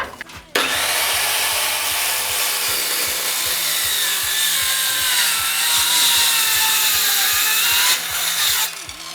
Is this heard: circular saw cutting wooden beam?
yes